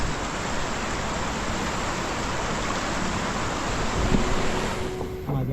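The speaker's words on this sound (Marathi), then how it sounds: "तर हा पाण्याचा आवाज येत असेल तुम्हाला." Rushing water near Zoji La pass at Sonamarg, a steady broad roar with a touch of wind, constant and moderately loud throughout, with no voices.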